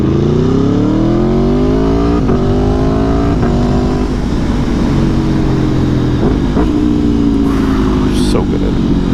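Aprilia Tuono V4 1100 RR motorcycle from 2017 with a V4 engine, revving loudly and steadily close by as the pitch climbs, with brief gear-change dips and wind noise throughout.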